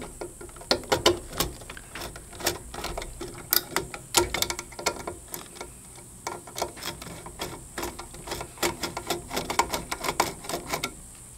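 A screw being driven to fix a self-grounding electrical outlet into its box, a rapid series of close, sharp ratcheting clicks in uneven bursts, with no voices.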